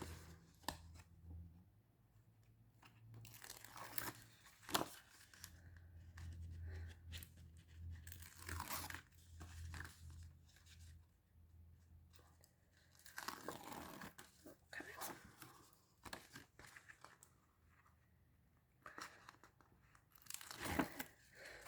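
Backing being peeled off strips of tear and tape adhesive on designer series paper for a large chocolate slider box: close, crinkly tearing and rustling bursts come and go irregularly, with quiet handling noise and faint low hum between them.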